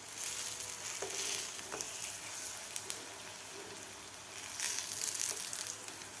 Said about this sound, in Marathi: अशा प्रकारे तुम्ही बघू शकता खालून असे व्यवस्थित आपले कटलेट फ्राय झालेले आहेत